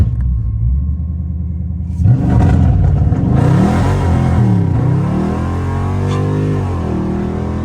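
A straight-piped Dodge Hellcat rumbles at idle, then bursts into a loud, climbing acceleration in a tunnel, its harsh exhaust roar rising and shifting in pitch as it echoes off the walls.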